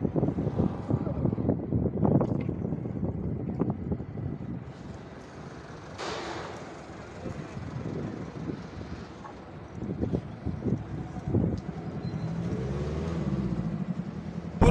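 Strong tornado-force wind buffets the microphone in rough low-frequency gusts at an industrial estate in Bursa, Turkey, with people talking intermittently underneath and a brief whoosh partway through.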